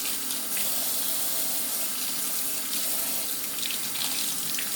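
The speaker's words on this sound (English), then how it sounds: "So, I'm going to rinse my hands off." Tap water runs steadily into a bathroom sink while hands are rinsed, a loud, close, continuous splashing hiss with small shifts as the hands move through the stream.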